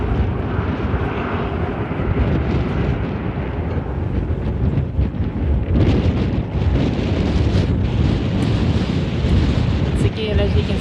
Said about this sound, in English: As you can see, we got a stiff breeze.